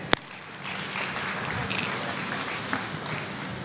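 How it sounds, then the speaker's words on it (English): Audience at a UAPB Black History Program giving a steady round of applause, moderately quiet and even, after a sharp knock at the start. "Let's give him a round of applause, please."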